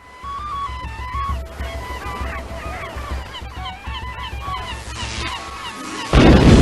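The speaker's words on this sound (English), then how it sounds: "Bird." Geese honk repeatedly in a steady series of nasal calls over a low motor-like rumble, ending with a sudden louder burst of noise.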